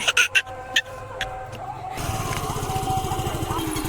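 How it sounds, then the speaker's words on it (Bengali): A scooter rides along carrying two people, its engine a steady close drone with road and wind noise that swells after a short burst of clatter and voices at the start. "মামাকে পেছনে বসে আমি স্কুটি চালাচ্ছি"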